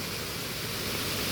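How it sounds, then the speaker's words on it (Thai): An artificial waterfall pours in a continuous broad hiss, a steady close rush of falling water with no breaks and no voices. "น้ำตกจำลองนี่แหละเดี๋ยวเฮาเข้าไปเบิ่งใกล้ๆอีกทีนึง"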